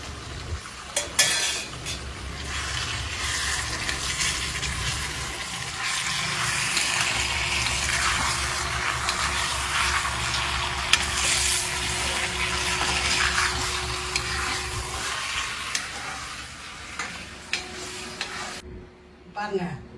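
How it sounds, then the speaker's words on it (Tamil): Mutton gravy with coriander and added oil sizzles in a pan while a spoon scrapes and stirs against the metal, a steady close frying hiss with clinks throughout. "இந்த கொத்தமல்லியை போட்டு கொஞ்சம் எண்ணெய் ஊற்றி சுண்ட வைக்கணும்."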